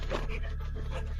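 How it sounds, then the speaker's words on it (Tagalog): A dog pants in quick, rhythmic breaths, soft and close, over a low steady hum. "Naging aso."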